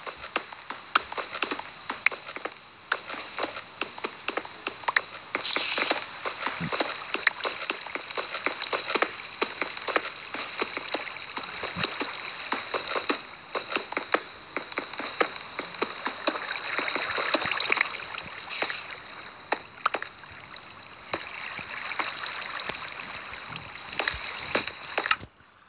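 Water in the Minecraft video game rushes and splashes continuously at a steady, moderate level, a broad hiss with small irregular splashes throughout and no voices.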